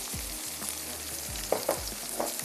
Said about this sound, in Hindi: थोड़ा सा इसको कुक होने देते हैं और ग्रेजुअली ऐड करते जाते हैं मसाले